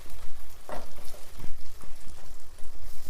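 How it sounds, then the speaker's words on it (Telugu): Chicken fry sizzles in hot oil in a pan, a continuous close crackle with a few louder spatters and stirring scrapes, no voices. "చూడండి ఎట్లా వేగుతుందో, మంచిగా వేగాలి."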